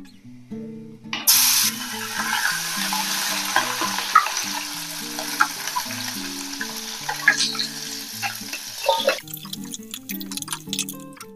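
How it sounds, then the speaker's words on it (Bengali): Puti fish seasoned with salt and turmeric fry in hot oil in a wok, sizzling steadily and loudly up close with crackles and stirring, over a faint tonal background. "কড়াইতে তেল দিচ্ছি, পুঁটি মাছগুলো ভাজবো।"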